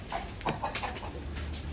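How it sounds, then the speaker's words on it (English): Chickens on an island in Samoa clucking, a few short close soft clucks in quick succession over a low outdoor background. "Island, the chicken's laying egg here."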